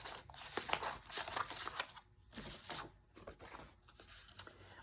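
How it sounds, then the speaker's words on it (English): Regular scissors cutting out pattern paper, a run of quick snips and papery rustles in an irregular rhythm, close but fairly soft, with no talking. "we want to use regular scissors and cut this out."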